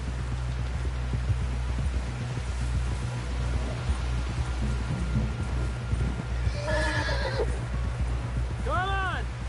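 A horse whinnies loudly near the end in Red Dead Redemption 2, rising and falling, over a steady low rumble, with hoofbeats and voices in the background.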